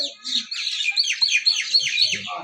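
Bulbuls and mynas chirp busily in the morning, gathered to feed on bananas put out at a shop, a close, dense run of bright overlapping tweets and trills with no voices.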